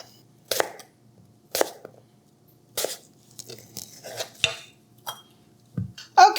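Mixing bowls swapped out while preparing apples for a caramel apple bread pudding: a handful of sharp, separate clinks and knocks spaced about a second apart in a quiet kitchen, with no talking.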